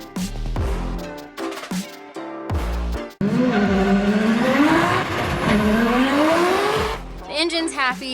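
A three-rotor rotary engine in a Mazda RX7 on a dyno, blipped in short bursts, then a long rising wail as it revs up, with voices talking over it.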